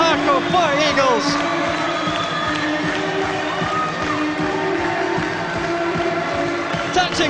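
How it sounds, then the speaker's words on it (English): Ice hockey crowd at an Ayr Scottish Eagles Euro Hockey League game in 1998/99 cheering after a goal, a steady roar of voices and whoops filling the arena with a commentator talking over it. "The crowd on their feet here, loving that one."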